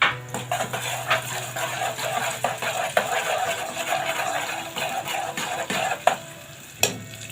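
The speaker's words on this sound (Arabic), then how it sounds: "عندنا حبة البصل اللي احنا اتفقنا عليهم الصغيرين، بنحطهم" Small onions sizzling in a pan: a steady, moderate frying hiss with scattered clinks and taps of a utensil, ending in a sharp knock.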